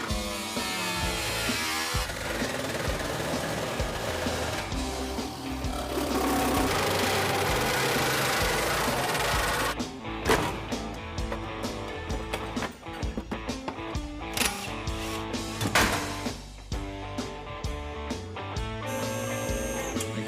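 Cutting out the stock wheel well on a car in a hot rod garage, a loud, steady mechanical grinding roar at first, then broken into choppy bursts of cutting with short pauses and clatter.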